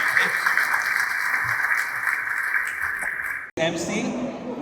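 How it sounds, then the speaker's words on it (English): A crowd applauds at a Pakistan Independence Day celebration in Chicago, steady clapping for several seconds that cuts off abruptly, after which a voice begins speaking. "can you give a round of applause and welcome"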